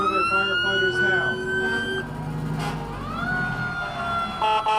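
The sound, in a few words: fire engine siren at a parade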